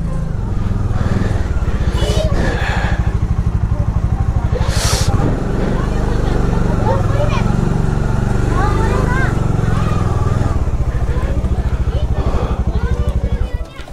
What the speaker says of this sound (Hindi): आ तो रही है बाइक यार